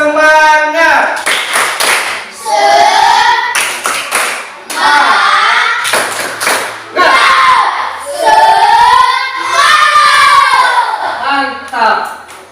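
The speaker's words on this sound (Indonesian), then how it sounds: "Tepuk semangat." A class of children performs a tepuk semangat rhythmic spirit clap as a classroom ice-breaker, patterned group clapping in quick bursts mixed with loud chanting voices.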